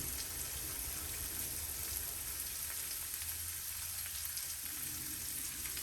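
Turkey sausages and a medium onion sizzling on a grill, a steady loud crackling fry hiss that holds evenly throughout with no voices.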